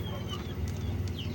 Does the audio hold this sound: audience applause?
no